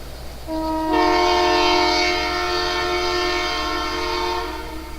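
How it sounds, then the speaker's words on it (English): A diesel train horn, likely on an old GP38 locomotive, sounds one long, loud chord of about four seconds as train VWM-8 arrives at West Mill. "we hear a train horn indicating the arrival of train"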